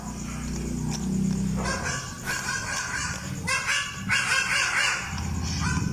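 A goat gives several short, yelping cries resembling a dog's barks, fairly close, amid rustling background noise.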